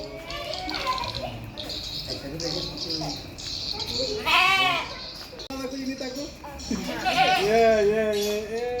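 Goats and sheep bleat repeatedly at an eco park, several clear nearby calls rising and falling while people talk in the background.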